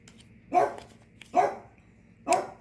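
A dog barks three times, each bark short and sharp, spaced about a second apart, fairly close.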